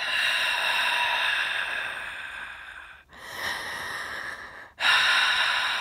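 A person imitates the heavy breathing from a horror film, with long, loud, airy breaths in close succession, each broken by a brief pause.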